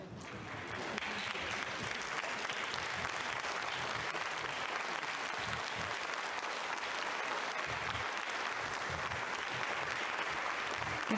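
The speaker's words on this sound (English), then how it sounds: "Getting some clapping here in the Mission Control Centre" Staff applauding in a rocket launch mission control centre after a Vega C launch, a steady wash of many hands clapping that swells after the first second and holds evenly, with faint voices mixed in.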